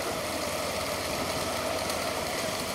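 A steady tractor engine idles at a bullock cart race in Alangudi, with a continuous low rumble and constant loudness, no voices, a dense mechanical drone throughout.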